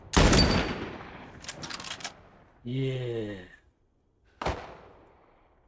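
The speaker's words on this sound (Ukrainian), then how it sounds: "Дивись, куди він стріляє." Gunfire in The Last of Us Part I comes as a loud opening volley and a few short bursts, then a later single sharp shot fading out, with a brief voice in between.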